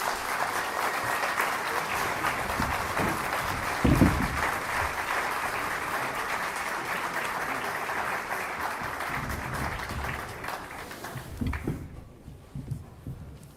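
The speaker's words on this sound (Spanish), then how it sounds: "Un aplauso" An audience at a university event gives sustained applause, a steady, moderately distant wash of clapping that fades out near the end.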